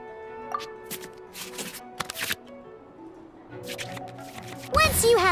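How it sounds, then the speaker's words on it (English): Digital card shuffling back into the draw pile in the Genshin Impact card game, heard as soft papery swipes and flicks scattered across the clip, ending in a brighter chiming flourish, with some speech-like sound present. "we can select any number of cards in our hand to shuffle back into the draw pile, and then draw the same number of new cards"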